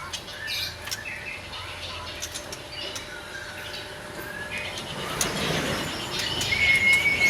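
A caged songbird in a bird-training setting gives short chirps and squawky calls scattered over a noisy background, with a few thin whistled notes near the end.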